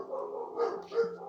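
Dogs bark twice outdoors, muffled and distant, over a steady low background hum and no nearby talk.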